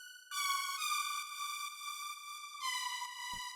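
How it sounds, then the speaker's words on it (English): Bright synth tones in Ableton Live 11, each note starting with a quick envelope pitch bend before settling into a steady buzzy sustain, with a short gap before a second note. "This gives it a little bit of pitch shift."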